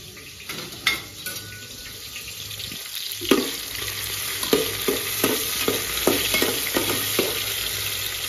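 Tomatoes fry in oil in a pan for a home-cooked khichdi, with a steady sizzle broken by a series of sharp scraping stirs from a spoon, close and fairly loud, and no talking.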